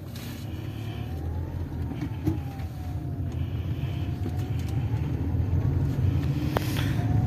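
A Mahindra XUV500 W8 on a test drive gives a steady low engine rumble with road noise that grows slightly louder toward the end, heard from inside the car, with a faint tonal whine drifting above it.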